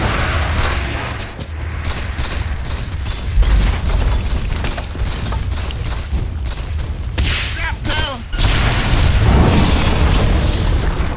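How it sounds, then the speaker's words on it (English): Dota 2 gameplay with a tower under attack: repeated booms, bursts and thuds of explosions and combat effects, dense and continuous throughout, with a louder surge near the end. "Dire's bottom tower is under attack."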